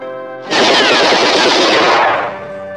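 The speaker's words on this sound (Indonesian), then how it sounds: "Ahmad Yani yang mencoba melawan ditembak dan mati di tempat" Sustained automatic gunfire rattles loud and dense for about two seconds in a film scene of soldiers shooting, bursting in abruptly and then tapering off.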